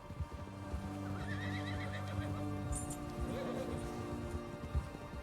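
A white Arabian horse in Red Dead Redemption 2 gives a clear neigh amid steady hoof clip-clop, with soft rain and faint background game sounds.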